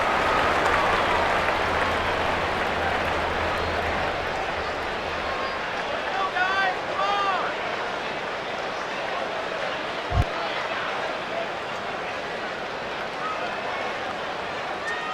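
Stadium crowd ambience from the MLB 09: The Show baseball video game, a dense, steady murmur of a large ballpark crowd during the middle innings, with brief swells and scattered calls under continuous play-by-play commentary.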